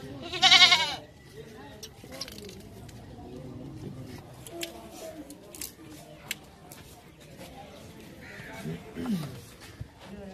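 Goats of a prized breed bleat at a farm, one loud close bleat at the start followed by fainter calls and scattered noises under ongoing talk.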